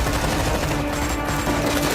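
Rapid sustained gunfire from an action film scene, a dense continuous burst of shots filling the whole clip, loud and close.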